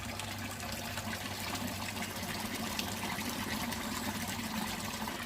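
Water runs and trickles steadily in a fountain at the Alhambra palace, a faint continuous splashing wash heard alone throughout.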